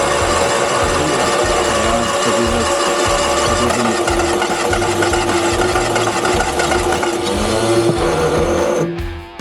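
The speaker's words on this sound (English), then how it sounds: "The starter is retracting too early." A 1965 Ford Anglia 106E's starter motor cranks in a loud, steady rhythmic churn that carries for about nine seconds before cutting off abruptly as the starter retracts too early.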